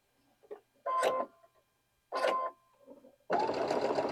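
A sewing machine chain-pieces small quilt block fabric pieces in short close bursts of stitching separated by pauses, ending in a longer steady run.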